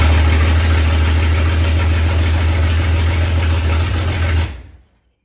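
A car engine started from a switch panel runs loud and close at a steady rough idle with a deep throbbing rumble, then cuts off abruptly near the end into silence.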